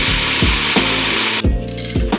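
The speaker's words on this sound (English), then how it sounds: "And now I'm going to grind up some oats into oat flour." Oats being ground into a coarse oat flour in a kitchen grinder: a loud, buzzing motor whirrs in repeated pulses, each burst rising and falling with a brief dip between them.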